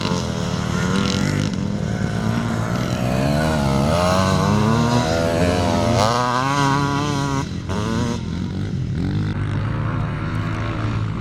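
Classic motocross motorcycles, including a 490 Yamaha and four-stroke Armstrong machines, race at a Strathaven meet with loud, continuous engine roars that rise and fall in pitch as bikes rev and pass nearby.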